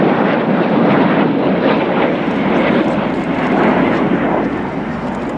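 Red Arrows jets, the synchro pair flying upside down in close formation, roar past at the RIAT airshow; a loud, broad, continuous jet rush filling the whole stretch without voices.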